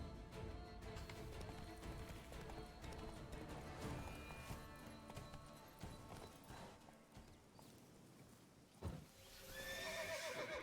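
Roach the horse in The Witcher 3 video game gallops with steady clip-clop hoofbeats throughout, with whinnying neighs rising over the hooves, then a sharp thud and a final neigh near the end; faint and distant in level.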